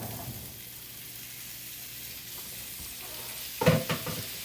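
Potatoes fry in bacon grease in a Princess House pan, giving a steady low sizzle throughout, then a brief louder burst of stirring and clattering near the end; no voices.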